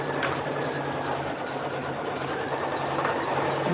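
An embroidery sewing machine winding a bobbin hums at a steady, even pitch, a continuous close mechanical whir with no pauses.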